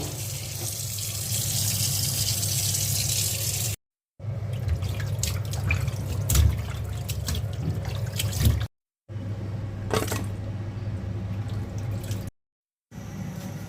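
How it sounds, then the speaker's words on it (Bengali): Running tap water splashes and drips while fish are washed in a sink, steady flowing water broken by short gaps, with occasional clatter. "মাছটা ধুয়ে নেই"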